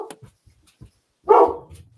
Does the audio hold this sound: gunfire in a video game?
no